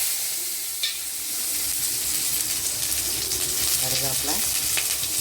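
Onion and green chilli frying in hot oil, a dense continuous sizzle and crackle close up, with a few stirring sounds and a faint voice briefly in the background.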